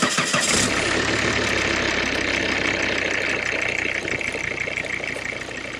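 A Volvo car engine cranks and catches after a battery replacement, then settles into a steady, fairly loud idle with a continuous low rumble.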